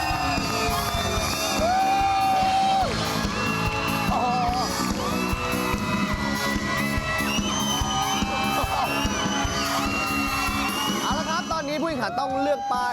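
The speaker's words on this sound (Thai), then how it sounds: "ขอเสียงปรบมือต้อนรับผู้แข่งขันของเราทั้ง8ท่าน" Studio audience cheering and whooping with applause to welcome eight contestants on a Thai TV singing competition show, loud and continuous over music for the whole stretch.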